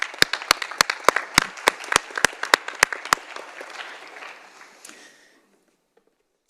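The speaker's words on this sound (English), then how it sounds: "So let's give them one more round of applause." A room at a school district annual meeting applauds reading buddies with loud, evenly spaced sharp claps close by over a softer crowd patter. The applause fades out over about five seconds into silence.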